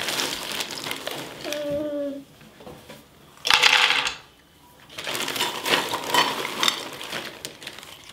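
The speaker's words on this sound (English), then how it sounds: "I'm just gonna start processing and watch for it to start to look like a butter, nut butter consistency." Almonds grind in a food processor for homemade nut butter, heard as bursts of rattling, whirring motor noise broken by short pauses and one sharp louder pulse midway.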